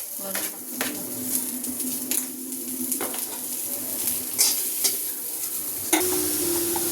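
Onion goes into hot oil and fries with a bright continuous sizzle, broken by sharp scraping and clinks of a utensil against the pan. A steady hum rises near the end and faint voices are heard in the background.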